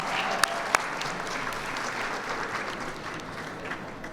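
Steady crowd applause fills a reception hall at a Pride event in the Chicago Cultural Center, dense and even throughout, with a couple of sharper claps near the start and no talking.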